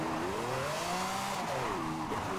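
A high-class drift car slides through a deep turn, its engine revving in sweeping, wavering pitch with a steady rush of tire noise, heard at moderate distance and alone without talk.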